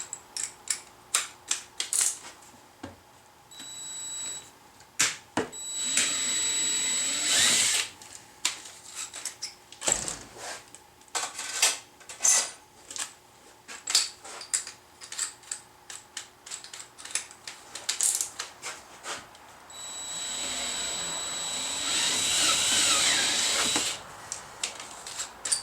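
A step drill bit bores through a plastic gas can spout in bursts of harsh grinding and whirring, separated by quieter stretches with scattered clicks and rattles, close and fairly loud.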